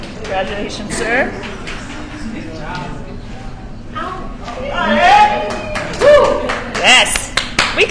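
Audience applause at a culinary job training class graduation ceremony, mixed with an announcer's voice and scattered crowd chatter, with sharper bursts of clapping swelling through the middle and end.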